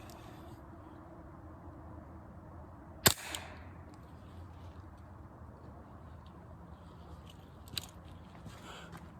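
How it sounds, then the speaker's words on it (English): A Hatsan Sortie .25 caliber air pistol fires outdoors at a coconut about seven yards away, one sharp crack standing out over quiet background, followed later by a fainter small knock. "So let's take a shot at the coconut."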